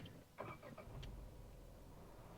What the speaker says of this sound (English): this car is going to start right in the CNG mode itself